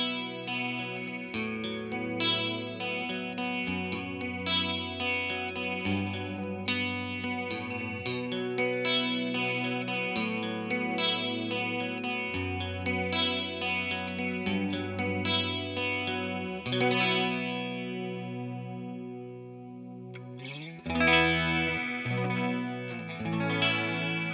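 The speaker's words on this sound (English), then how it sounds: "Kind of chorusy. Sounds like a Dimension C chorus." An electric guitar played through a delay pedal set for modulation, giving a shimmering, chorus-like wash over sustained chords and melodic lines that ring steadily with no talking.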